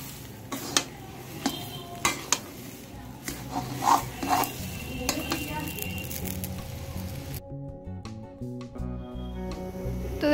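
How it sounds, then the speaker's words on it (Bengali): Taro and chickpea curry with shrimp is stirred in a wok, the spoon scraping and clinking against the pan in quick, uneven strokes that carry over a low kitchen background before the clatter thins out near the end. "ভালো করে এরকম নেড়ে নেড়ে একদম শুকনো করে নেবেন"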